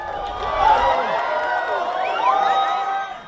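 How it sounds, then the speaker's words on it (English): A crowd at a NASA rocket launch cheering and whooping, a swell of voices at a moderate distance with a brief low rumble at the start. "But hearing the people cheering"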